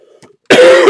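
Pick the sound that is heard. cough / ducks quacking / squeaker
cough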